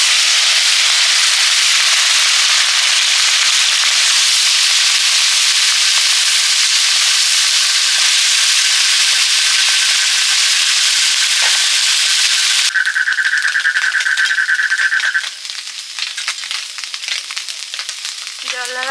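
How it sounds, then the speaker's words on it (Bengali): Loud, steady sizzle of small fish frying in hot oil, a dense crackling hiss that carries on throughout, with a brief tonal beep partway through. "চুনো মাছগুলো ভাজা হচ্ছে"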